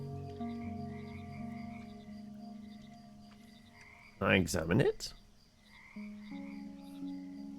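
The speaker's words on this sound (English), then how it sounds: "We got a common frog." Common frog croaking in a frog-management game, a few bright, close, rapid croaks bursting out over a quiet ambient background with a short spoken remark.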